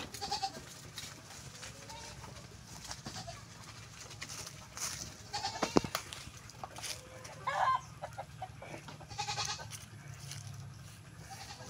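Goats bleat on a farm where they have been let out near mango plantings, their calls scattered among clucking chickens and rooster sounds against a steady outdoor background.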